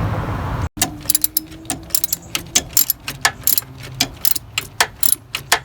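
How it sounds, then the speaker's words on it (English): A ratchet turns the timing belt adjustment bolt on a Toyota Camry 3.0L V6, producing a brief pause and then rapid, close, uneven bursts of metallic clicking. "we'll free up that adjustment bolt, and we'll start turning it to the left"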